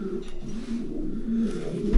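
Soft, low racing pigeon cooing murmurs steadily throughout a breeding loft, a continuous burbling with no talk.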